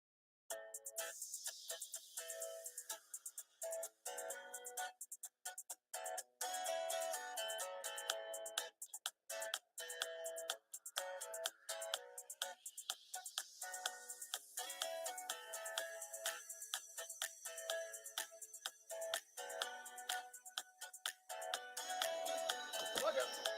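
A mobile phone ringtone goes off in the audience of a live show, a melodic electronic tune of repeating tones that plays steadily for over twenty seconds with no talking over it.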